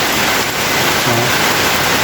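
Light, steady rain falling near a house where a newly dug drainage ditch behind it carries runoff, a soft continuous hiss of drops on surfaces with no voices.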